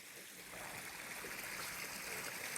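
Water rushes and flows steadily as a broad, continuous hiss, a stream or small waterfall close by with no break, in Hawn State Park.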